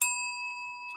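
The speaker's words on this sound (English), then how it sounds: "but I'm going to give you a bell." A bright bell ding rings out once and sustains with a clear ringing tone, decaying slowly with no talk over it.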